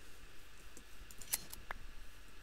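Shears snip wool from sheep in the block-building game Minecraft, with a few short, faint clicks spaced across a quiet background.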